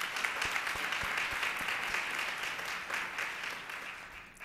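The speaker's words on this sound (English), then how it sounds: "Let's give our Mayor Pro Tem a good round of applause" An audience at an annual Women's Forum claps steadily for the Mayor Pro Tem, a dense round of applause that tapers off toward the end.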